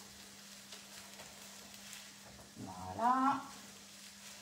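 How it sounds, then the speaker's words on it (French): Eggs sizzle softly in a pan under a light steady crackle, then a brief scraping stir with a spatula near the end as a voice speaks briefly. "Alors, les œufs cuisent, hein,"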